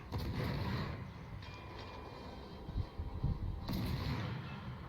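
Warship guns fire in World of Warships, booming broadband salvos over a constant rumble of engine and sea ambience, with a heavier blast toward the end and no speech.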